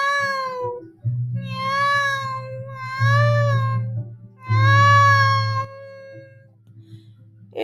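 A cat meows in pain, giving four drawn-out, strained cries with short pauses between them. The cries are close and fairly loud, and no other sounds are heard.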